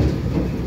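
A train rumbles through the Eurotunnel between Calais and Folkestone, a short, close, heavy low roar with no voices.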